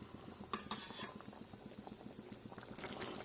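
Soft, steady stirring and scraping in a pan of mustard-poppy gravy as pabda fish and fried eggplant go in, with faint bubbling underneath and a couple of light clinks, close but quiet.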